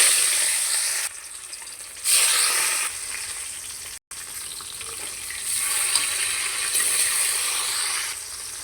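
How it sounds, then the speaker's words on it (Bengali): Rohu fish pieces frying in oil in a wok, a bright close sizzle that rises and falls in loudness, with a brief cut to silence midway. "প্রথমে আমি রুই মাছটা ভেজে নেব কড়াইতে দিয়ে দিলাম"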